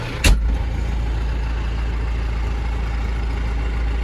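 MTZ tractor running while ploughing a field, a steady low engine drone throughout, with a short sharp knock near the start and no speech.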